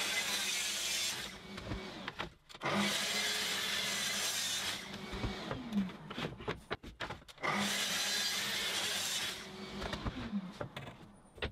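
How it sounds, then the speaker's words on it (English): Wooden boards for mobile bases being cut to size with a saw, giving long broadband rasping strokes in repeated bursts separated by brief pauses, loud and close with no talking. "I can measure then cut the boards to size"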